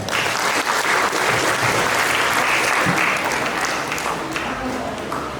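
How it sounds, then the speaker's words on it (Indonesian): Sustained audience applause in a hall at a political education session in Pelalawan, Indonesia, loud and steady from start to finish, thinning slightly near the end, with a few voices underneath. "Tepuk tangan buat kita semua."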